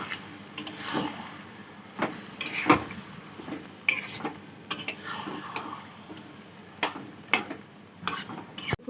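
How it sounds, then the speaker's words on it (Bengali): Yogurt-marinated chicken for gondhoraj chicken is stirred in a pan, giving soft scrapes and clinks of a spoon against metal over a low sizzle, with irregular taps and knocks throughout. "দিয়ে ভালো করে এটাকে নেড়ে ছেড়ে নিতে হবে।"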